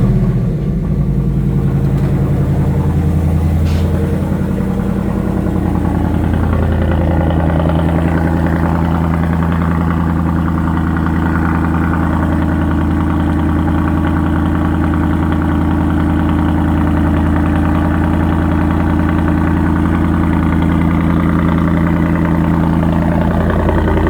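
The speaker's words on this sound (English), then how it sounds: "Start up, but as soon as it idles down, it gets kind of quiet, even on the track exhaust." A Ford Mustang Dark Horse with a Corsa Xtreme track exhaust starts up with a loud, deep rumble, then settles into a steady, slightly quieter idle that drones on close by.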